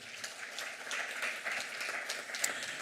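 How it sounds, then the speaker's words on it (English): An audience at the launch of Ghana's Sustainable Cities Strategy claps steadily, with dense, even applause sustained throughout at moderate level and a few sharper individual claps standing out near the end. "let's clap for Cloticoli"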